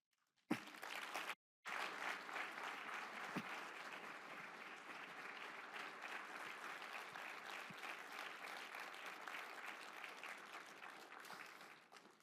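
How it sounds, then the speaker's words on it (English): An audience applauds the announcement of the 2026 Klaus Thiessen EDC Impact Award going to JR Simplot Company. The soft, steady clapping pauses briefly near the start, then continues evenly before trailing off. "Clap a little longer."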